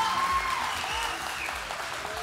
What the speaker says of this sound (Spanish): ese aplauso fenomenal es para los cuatro